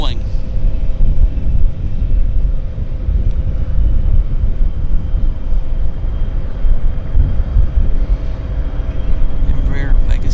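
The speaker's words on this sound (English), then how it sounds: "It's an Embraer Legacy 600 is what they call it." An Embraer Legacy 600 business jet rolls along the ground at Vancouver airport, giving a loud, steady engine rumble with a faint whine held throughout, while people talk over it.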